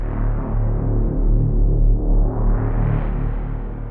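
A thick, buzzy default synthesizer patch in Concept holds steady while its brightness slowly sweeps down and back up, deep and warm with a throbbing low end.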